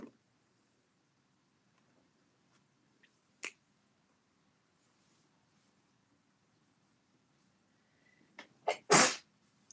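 A single sharp human sneeze bursts out near the end of an otherwise quiet stretch at a home crafting table, with a brief click a few seconds earlier.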